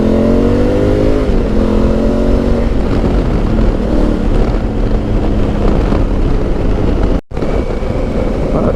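A Honda Africa Twin motorcycle engine revs and pulls hard, rising in pitch, with heavy wind buffeting the microphone and a brief dropout near the end.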